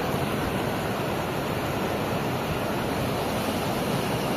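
Continuous loud rushing of the fast-moving Noyyal River near Coimbatore, a steady broadband roar with no breaks, close by and without voices.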